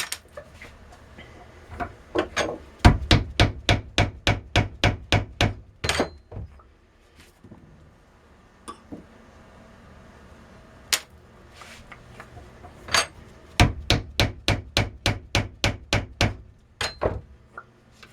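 Powder is rammed into a firework shell tube for a five-inch single-break shell, heard as two close, rhythmic bursts of about a dozen sharp tamping knocks each, separated by a quieter stretch with scattered taps.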